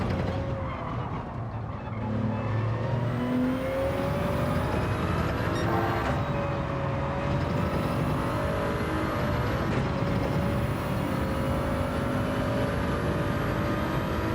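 Toyota Supra racing around a track in Gran Turismo 7, its engine a steady, continuous drone with rising and shifting pitch throughout, fairly loud, with no talking.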